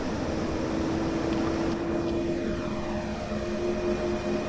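A loud electric train in Train Sim World 2 gives a steady, powerful motor drone with a sustained whining tone running continuously throughout, with no talking.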